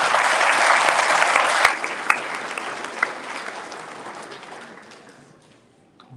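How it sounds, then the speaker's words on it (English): Audience at a junior high graduation ceremony applauding, a dense burst of clapping that thins out with a few sharp claps before fading away. "Please give a big round of applause"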